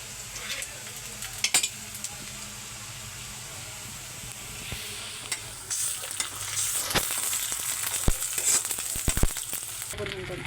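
Ginger, cumin and garlic pastes fry with whole spices such as cloves and black pepper in a pan, giving a steady hiss and sizzle with occasional sharp clinks of a stirring utensil.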